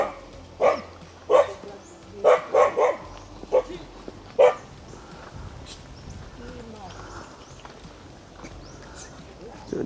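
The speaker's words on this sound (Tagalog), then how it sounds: "Salubungin na naman tayo ng mga aso nila." Several dogs at a rural home bark in a quick burst of sharp, fairly close woofs over the first few seconds, then fall quiet while faint background sounds continue.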